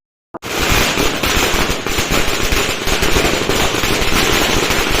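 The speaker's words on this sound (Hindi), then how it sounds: "यहाँ पर बारात आ चुकी थी, जिसके लिए आतिशबाजी हो रही थी।" After a brief pop, dense firecrackers crackle nonstop in a loud, rapid barrage that continues to the end, set off for a wedding procession.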